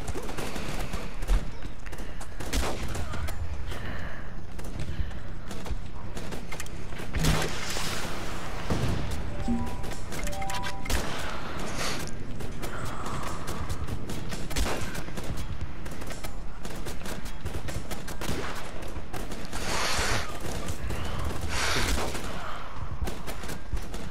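Dense, continuous gunfire from someone shooting at everyone, rapid overlapping shots and bursts with thuds and crashes, loud and unbroken throughout.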